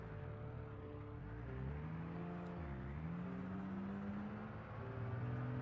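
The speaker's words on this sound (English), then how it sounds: "Another generic 70s muscle car." A generic 1970s muscle car engine in a video game drones and revs, pitch rising and dipping as it accelerates, a steady mechanical growl with no talking.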